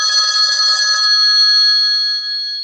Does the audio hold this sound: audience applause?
no